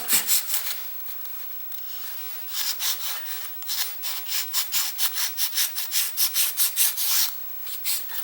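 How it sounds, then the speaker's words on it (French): A file rubs back and forth over a painted model to lighten the colour, giving close, scratchy rasping strokes that start sparse and then settle into a quick, regular rhythm before a short pause. "je vais bien limer aussi ici pour éclaircir la couleur"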